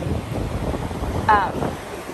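Wind on a beach buffets the microphone in a steady rough rush, with a brief faint tonal chirp partway through.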